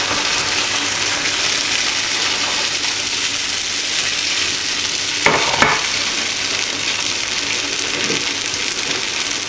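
Banh xeo batter fries in a hot pan with a loud, steady sizzle and crackle that runs throughout, broken by a couple of brief clatters near the middle.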